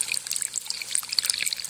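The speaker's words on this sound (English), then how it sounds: "Where it runs down, and then I have a drip." Water trickling and dripping in a garden fountain, a continuous fine splashing patter with small irregular drips, close and steady.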